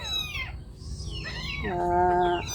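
A kitten under one week old meows a few times, high sliding cries, the last one longer and steadier, close by over low background rumble.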